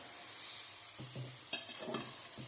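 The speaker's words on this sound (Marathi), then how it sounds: "सगळं गाजर टाकून घेतलं आपण आता छान असं परतून घेऊयात" Grated carrots being sautéed in a pan over low gas for carrot halwa, a steady sizzle with soft scraping stirs and a few sharper clinks of a spoon against the pan, close and moderately loud, no voices.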